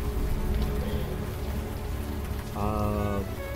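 Steady rain hisses in the city scene of the video game Unavowed, falling near a towering glass building; a constant wash with a brief tonal game sound rising partway through.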